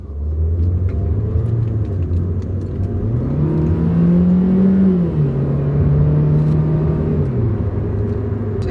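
A car engine accelerating on a racetrack, heard steadily and up close as the revs climb in a smooth whine, hold high, then drop back to a lower rumble.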